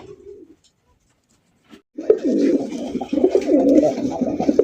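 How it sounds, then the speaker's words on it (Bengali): Coloured Rajgolla pigeons coo steadily in a loft, a dense, continuous cooing that starts after a short quiet stretch and carries on nearby and fairly loud. "কালারিং রাজগোল্লা কবুতর আরো এক জোড়া দেখতে পাচ্ছেন"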